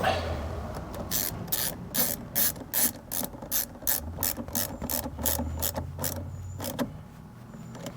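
Ratchet wrench clicking on the auxiliary battery terminal of a 2006–2011 Mercedes ML350 (W164), a close, brisk run of about twenty sharp pawl clicks in quick rhythmic bursts, stopping near the end.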